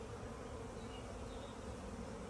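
Honey bees buzzing around a nucleus box during installation of a nucleus bee package, a dense steady drone from a swarm close by, fairly faint, with no voices.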